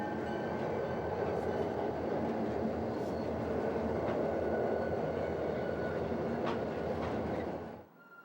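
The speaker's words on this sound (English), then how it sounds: "This is simply a westbound GT train heading into the east end of BN's major yard in the Chicago area" A westbound Grand Trunk Western freight train rolls into the east end of a major Burlington Northern rail yard near Chicago, a loud continuous rumble with wheel clatter and squeal that cuts off abruptly at the end.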